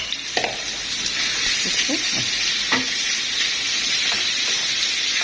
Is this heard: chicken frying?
yes